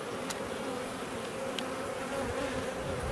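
Bumblebee buzzing around a beehive frame, a steady low drone, moderately close and fairly faint, with no voices.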